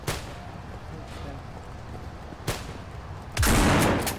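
A single gunshot fired in the zombie survival game No More Room in Hell, a sharp loud crack near the start, followed later by a softer thump and a burst of louder noise.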